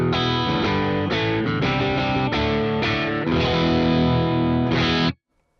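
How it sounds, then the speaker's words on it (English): Electric guitar through the Plini X amp plugin with its drive pedal bypassed, a bright, full chordal riff with chorus-like shimmer, loud and continuous, stopping cleanly at the end. "With this drive pedal bypassed, it sounds like this."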